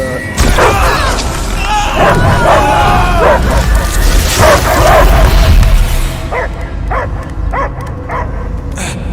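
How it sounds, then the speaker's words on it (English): Dog barking inside a Guardians of the Galaxy video game scene, mixed with game sound effects and voices, then several short distinct barks standing out near the end. "I hear only barking."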